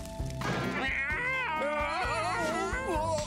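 A cartoon cat gives a series of loud, expressive meows and caterwauls, rising and falling in pitch over music, with a brief thump near the start.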